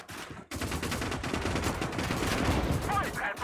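Rapid, sustained gunfire from a tank in the Gates of Hell World War II strategy game, a dense rattling burst that starts abruptly and runs loud and close for about three seconds.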